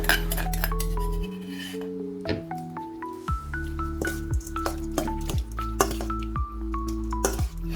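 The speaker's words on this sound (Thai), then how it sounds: "แล้วก็เริ่มคลุกเคล้าให้เข้ากันให้หมดเลยครับ" Sliced pork belly is tossed and mixed with a spicy, tangy dipping sauce in a bowl, making wet squelches, drips and light clinks close by, with ringing tones underneath.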